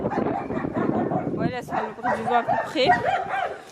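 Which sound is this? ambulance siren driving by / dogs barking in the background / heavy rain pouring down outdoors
dogs barking in the background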